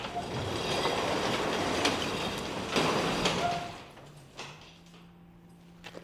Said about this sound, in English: We're going to be opening up the garage.